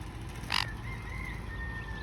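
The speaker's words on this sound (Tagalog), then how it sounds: "Ayan yung uwak, tignan natin yung uwak." A single short crow caw rings out close by over a low, steady background hum.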